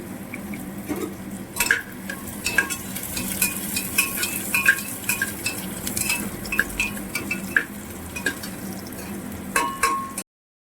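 Onions with a pinch of salt frying in a pan for ghugni, a steady close sizzle under repeated stirring and scraping strokes, a few sharper utensil clicks scattered throughout, no talking.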